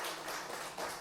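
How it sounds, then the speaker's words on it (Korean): A church congregation gives dense, steady clapping in encouragement for an 86-year-old elder during a Holy Week service. The applause is brief and continuous and has no voices. "격려의 박수"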